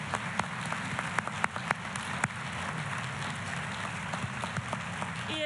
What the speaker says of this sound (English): Let's give this amazing group of leaders another round of applause.